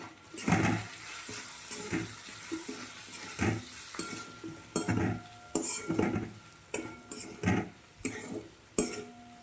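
A spoon stirs and scrapes dill greens (suva bhaji) with turmeric and coriander-cumin powder in a pan, making irregular clinks, knocks and soft sizzling over about nine seconds, close up with no talking.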